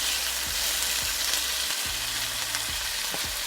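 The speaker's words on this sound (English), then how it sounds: "take your turkey breast and saute it so it's browned on all sides" A chunk of turkey breast sizzles and fries steadily in oil in a pan while being browned, with a few soft clicks of stirring and no talk.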